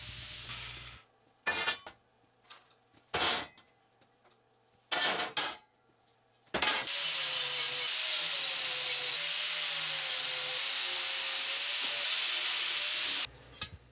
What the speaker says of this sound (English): Now I'm working in the garage welding the frames together.